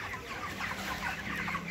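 Chickens cluck steadily at close range on a farm where feed is being put out, soft overlapping calls running through the whole short stretch with no talk over them.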